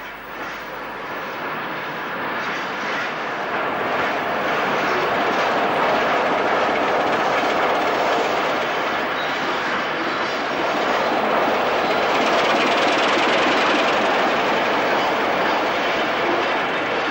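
Two Beyer Peacock-built Class 2 steam locomotives haul a heavy stone train past near Stoke-on-Trent in the 1960s in a long, loud, steady rumble and roar with no voices.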